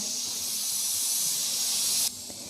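Dried red chillies fry in a pan for temple-style pulihora, producing a steady, loud, airy sizzle that drops off abruptly near the end.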